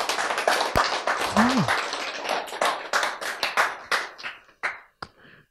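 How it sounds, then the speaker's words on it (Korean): An audience at a lecture on relieving stress breaks into brisk, dense applause that thins out over several seconds into a few scattered, separate claps at the end. "박수."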